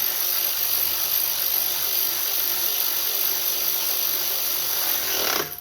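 A battery power tool runs continuously, tightening screws on the carburetor of a 2000 Toro push mower, a loud steady whine that drops off at the very end, with no talk.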